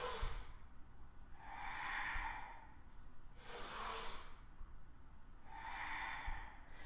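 Slow, deliberate breaths in and out during a yoga flow, several soft airy exhalations and inhalations at a calm, even pace, close and faint.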